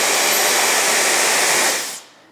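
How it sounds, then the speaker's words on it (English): A Shark SpeedStyle Pro hair dryer blows at full power with a loud, steady, airy roar, then switches off and winds down over the last half second. "I hope you could hear just how powerful this hairdryer is"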